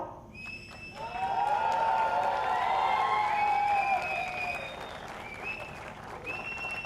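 Audience applause and cheering for the star cast at the launch of the TV show Mahakumbh, a broad sustained roar of clapping that swells after the first second, holds steady, then eases with faint whistle-like tones on top.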